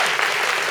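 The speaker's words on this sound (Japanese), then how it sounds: "皆さん拍手で。" Audience at a Photoshop keynote event breaks into a short, loud burst of steady clapping from many hands.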